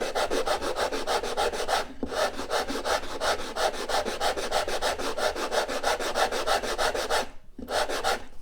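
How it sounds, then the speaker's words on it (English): Guitar rosette tiles of wood being sanded by hand: steady, rhythmic back-and-forth rubbing strokes, close and loud, with two brief pauses and no talking. "So basically what we do is to do a bit of sanding."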